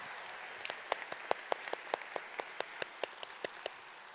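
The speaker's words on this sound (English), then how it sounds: "let's give another great big theater-shaking round of applause for your faculty" Audience at a university College of Information Science spring convocation claps for the faculty in a theatre, a thin, distant patter of scattered hand claps with a few sharper individual claps standing out.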